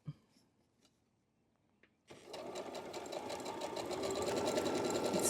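After a couple of quiet seconds with small handling taps, a sewing machine starts stitching quilt fabric, running in a fast steady whir that grows slightly louder and continues to the end.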